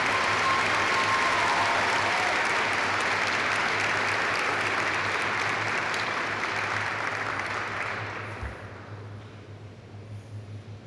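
A large ceremony audience applauds the Outstanding NCO of the Year nominees, a dense, even wash of clapping that holds steady, then fades to scattered claps near the end.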